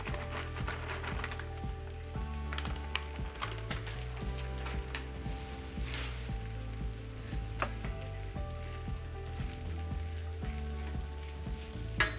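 Pre-seasoned hash browns sizzle steadily as they fry in a pan on a home stovetop. A close, continuous crackle runs over a low mechanical hum, with no talking.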